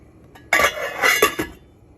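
A metal lid clanks onto a cooking pot of dal with boiling water, a sharp clatter followed by a couple of rattling knocks as it settles, close and loud.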